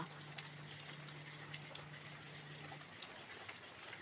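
Water pours steadily into a vessel of soaked white ration rice for sweet kadubu, a continuous close gushing with a low hum that stops near the end.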